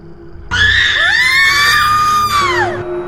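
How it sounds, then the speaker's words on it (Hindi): A woman's scream as a horror sound effect: one loud, piercing, sustained shriek lasting about two seconds that rises and then falls away, starting abruptly after a quiet moment. "दर्पण में वह महिला चीख रही थी।"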